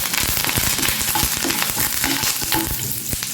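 A tempering of urad dal, chana dal, mustard seeds, a dried red chili, cumin and curry leaves frying in hot oil, giving loud, dense crackling and popping over a steady sizzle, close and continuous.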